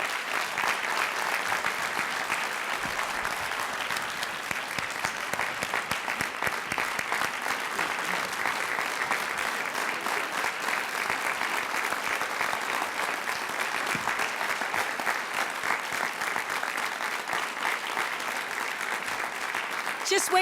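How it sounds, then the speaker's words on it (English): An audience at a fall convocation claps steadily for an award winner walking up to the stage. The even, sustained applause fills the hall for about twenty seconds. "Just wait till you hear what Irwa has done to earn that applause."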